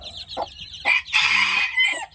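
A mother hen with two-day-old chicks clucks nearby in several short, throaty bursts with brief gaps between them.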